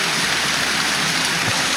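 Steady, dense hiss of light drizzle falling continuously on a forest trail, soft and even throughout with no voices.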